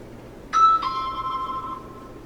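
A Samsung Galaxy J3 Orbit doorbell notification tone: two clear electronic chimes, the second held and slowly fading, heard alone and fairly loud.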